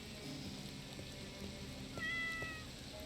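A stray cat meows in a Halloween horror video game, a short meow rising over a bed of rain-like ambience, fairly faint and with no talk.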